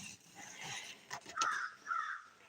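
Crows caw outdoors, several harsh, rasping calls in quick succession, moderately close and fairly loud against a quiet background.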